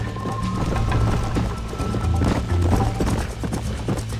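Hooves clip-clop rapidly in a steady galloping rhythm, loud and close, with a faint horse snort and background ambience from the video game Red Dead Redemption.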